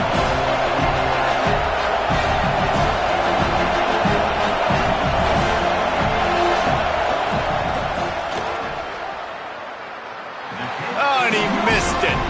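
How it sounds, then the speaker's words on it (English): Stadium crowd roaring steadily in a college football video game as a kicker lines up a field goal attempt, dense loud noise dipping briefly near the end before swelling again, with a commentator's voice running over it. "This crowd trying to do its part to get inside the kicker's head."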